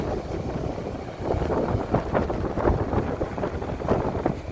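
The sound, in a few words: strong wind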